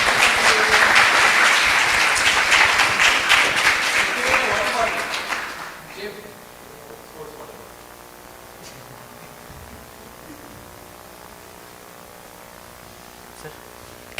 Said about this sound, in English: So a big round of applause for him, Arun S.